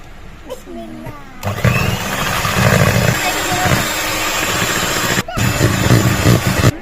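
An electric mixer runs at its lowest speed whipping meringue for a mango sponge cake, a loud, steady motor whir that starts after a brief pause and continues close by with only a short dropout near the end; a voice speaks over it.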